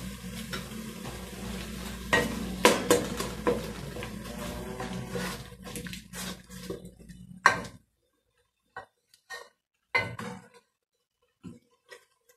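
Ají amarillo seasoning being stirred and fried in a pot, sizzling with spoon scrapes and clanks against the metal for several seconds, then the sizzle stops and a few isolated knocks follow.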